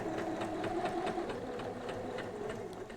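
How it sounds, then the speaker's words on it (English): Sewing machine stitching a tote bag, a fast steady mechanical chatter of the needle running continuously at close range with no voices. "I'm just going to overlap it very slightly to lock in the stitching."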